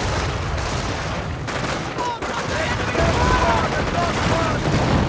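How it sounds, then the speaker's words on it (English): Howitzer fire and gunfire rumble through a World War II strategy game battle with Panzer IV tanks and mortars, a dense continuous barrage of booms and shots, loud and unbroken across the whole stretch. "Again, howitzer fire on his own men"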